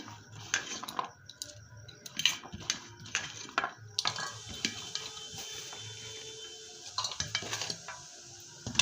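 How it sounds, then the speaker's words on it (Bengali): Chopped ginger, chili and other vegetable chop ingredients are stirred together in a bowl, giving irregular scrapes and clinks of a utensil against the dish, close and moderately loud, without talk. "আদা কুচি লঙ্কা কুচি মানে যা যা উপকরণ নিয়েছি সবগুলা এক জায়গায় মিশাবো"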